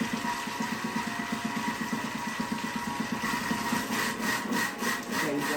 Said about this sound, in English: it's got the butterfly whisk in, so we're going to whisk it up at speed 3